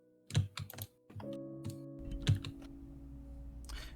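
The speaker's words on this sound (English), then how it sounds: "the random typing I'm hearing" Scattered, irregular typing on a computer keyboard during an online tabletop RPG session, keystrokes loud and close, with clusters of clicks and a low steady hum in between, no talk over it.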